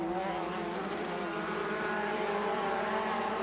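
Limited buggy off-road race cars roar in a steady, sustained engine drone at an off-road racing series round, loud and continuous with slight shifts in pitch as the machines battle for position.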